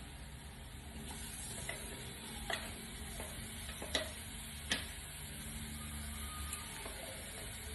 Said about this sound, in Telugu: బాగా ఫ్రై చేసుకుందామా నేను